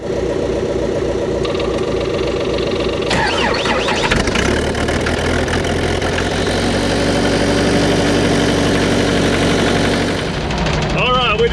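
Old Case dozer cranking over on a cold morning, the starter grinding for a few seconds before the diesel catches and roars up to a loud, rough idle, with a voice briefly heard over it.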